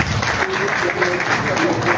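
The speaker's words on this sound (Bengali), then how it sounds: "আমরা সবাই জনাব আশিকুল ইসলাম ভাইকে জোরে করতালি দিয়ে স্বাগত জানাই" An audience at a government employees' association rally applauds to welcome a speaker, with steady clapping heard throughout alongside a background voice and crowd murmur.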